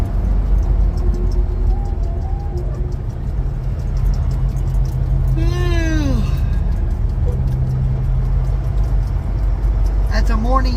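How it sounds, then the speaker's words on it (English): A truck driver's morning yawn rises and falls in a drawn-out voiced sweep over the steady rumble of a truck cab engine on the road. "That's a morning yawn"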